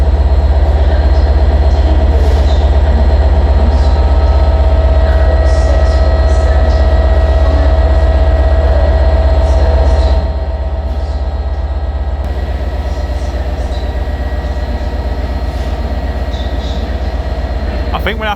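A Class 67 diesel locomotive with a fault idles loudly at Shrewsbury station, a steady heavy engine drone that drops in level partway through, with faint voices over it.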